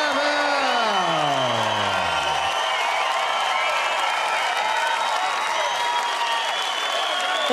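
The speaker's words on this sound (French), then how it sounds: "il y a une foule qui est réellement là, encourageante quand tu regardes ça" A boxing arena crowd at a light flyweight title fight cheers and applauds in a steady, dense roar that lasts throughout, with a descending tone fading out early and voices mixed into the din.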